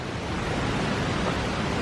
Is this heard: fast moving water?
yes